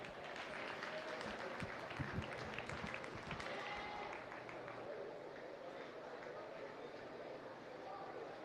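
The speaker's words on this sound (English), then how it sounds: "let's give one more round of applause" An audience at a county fair livestock arena gives a round of applause, a sustained, fairly distant wash of clapping with crowd murmur and a voice over a loudspeaker.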